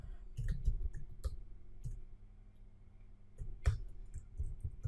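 Clicks from a computer keyboard while HTML code is typed: irregular bursts of light, close key taps with short pauses between groups, fairly quiet and without talking.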